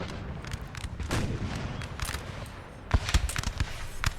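Gunfire from infantry units in a war strategy video game, a dense crackle of rifle and artillery shots rolling continuously, with a louder burst of close volleys near the end.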